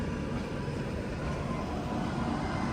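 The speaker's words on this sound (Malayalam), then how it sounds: "ബാന്ദ്രയിൽ ബാട്ട്മേറിലേക്ക് പോകുന്ന ഹംസഫർ എക്സ്പ്രസ് അതിതാ ഇവിടെ തിരികെയാണ്." Humsafar Express on the Bandra–Barmer route rumbling at a station, a steady broadband roar of rolling train noise that holds constant throughout, with no voices.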